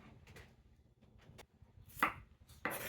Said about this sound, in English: Keep on chopping.